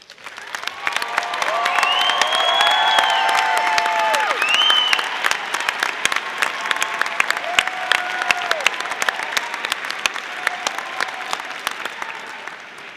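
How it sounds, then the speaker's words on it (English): A commencement audience applauds graduates with distinction at a College of Health and Human Sciences ceremony, a dense, steady wash of clapping lasting the whole stretch with scattered cheers and a few whistles rising in the middle. "please rise so we may applaud your academic excellence"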